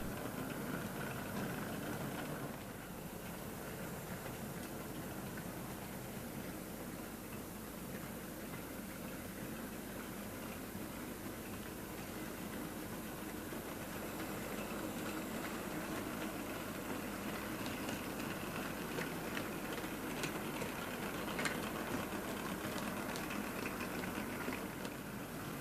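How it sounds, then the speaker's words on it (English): LSWR Adams radial tank steam locomotive 735 moves with a London South Western goods train, giving a continuous, fairly quiet rumble that stays steady for the whole stretch with no voices. "735 is seen here with an attractive London South Western goods train."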